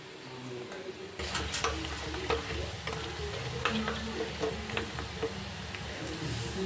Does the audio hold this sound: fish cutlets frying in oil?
yes